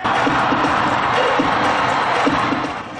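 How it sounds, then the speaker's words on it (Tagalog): A packed arena crowd cheers nonstop at the NCAA 101st season opening at Araneta Coliseum, fans waving light sticks, with a dense, even roar of shouting that holds steady throughout. "sinuklian ng walang tigil na hiyaw ng crowd"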